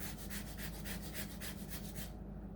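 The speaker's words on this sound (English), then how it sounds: "I take a whole lemon and give it a little grating of lemon zest on top of this" A whole lemon is grated for zest over a breadcrumb and Ritz cracker crust on cod, a steady rhythmic scraping of about a dozen quick strokes, close and fairly loud, ending abruptly.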